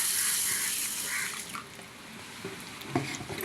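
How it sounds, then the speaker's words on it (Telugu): Mung beans being rinsed in water for a village-style recipe, with a steady splashing and running-water wash that is loud at first, then quieter with a few small splashes and drips. "వీటిని నీళ్లు పోసి శుభ్రంగా కడుక్కుందాం"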